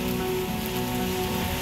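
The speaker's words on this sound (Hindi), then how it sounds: "बारिश बहुत तेज़ आ रही है" Heavy rain pours down in a dense, constant hiss, drumming steadily on nearby surfaces with no pause.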